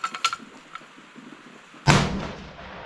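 A single sharp, loud rifle shot from a 6 ARC ladder test load of 28 grains of CFE 223 cracks out near the end, after a few faint clicks and handling noises.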